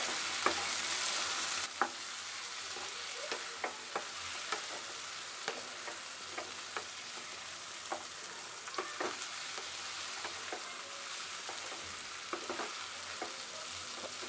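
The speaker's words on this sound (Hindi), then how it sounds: "अब मैं हाई फ्लेम करती हूँ। और इस पे मुझे थोड़ा तेज़ करके 2 मिनट 3 मिनट तक भूनना है।" Cauliflower bhujiya fries on high flame, a quiet continuous sizzle broken by a string of light scraping stirs and clicks of the spoon against the pan, with no voices.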